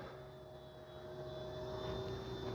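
An FMS 1500mm Skylane RC prop airplane flying low in a crosswind, its faint, steady engine drone holding at constant distance with a slight swell toward the end.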